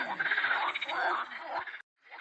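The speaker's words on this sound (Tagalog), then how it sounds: "Ayan, nag-ingay na yung mga palaka." A chorus of frogs croaks loudly and close by at a lake, dense overlapping calls for nearly two seconds, then a brief silence before croaking resumes.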